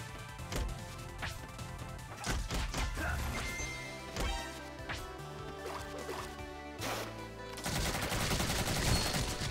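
Solid Snake's gun fired in Rivals of Aether, a quick series of sharp game shots and impact smacks layered over busy music and effects, fairly loud and close.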